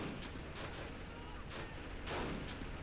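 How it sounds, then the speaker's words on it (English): A grenade goes off amid a WW2 citadel siege battle in a video game, heard as a few faint, distant muffled bursts over a constant low rumble of combat. "Oh, grenade gone off."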